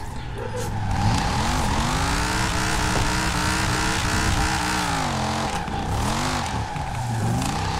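A 700-horsepower drift car with a big engine and wide tyres in Forza Horizon 4 revs hard and steadily, its harmonic engine note rising and falling as it slides. The roar stays loud and continuous throughout, with no voices.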